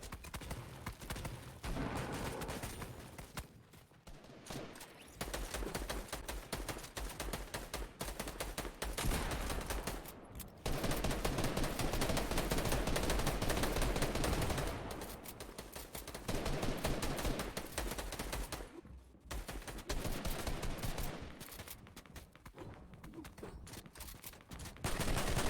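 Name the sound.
gunfire in the video game Fortnite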